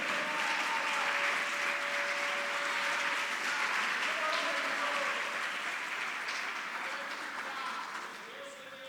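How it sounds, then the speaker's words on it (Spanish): Loud, sustained applause from a crowd fills the room, holding steady before tapering off near the end. "Denle un aplauso fuerte a Él."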